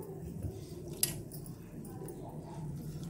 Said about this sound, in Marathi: अशा प्रकारे मी पूर्ण पाणी काढते आणि कोरडे करून टाकते।